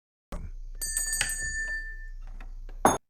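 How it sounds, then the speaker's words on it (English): A bell rings in the Indonesian horror film Satan's Slave, a clear ringing tone with a sustained shimmering ring, set against eerie background sound and closing with a sudden loud hit. "he hears a bell ring"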